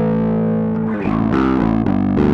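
Bass guitar through an IceDrive bass overdrive pedal with the extra gain switched off, producing a gritty, driven tone as a few sustained notes slide and change, loud and close with no talk.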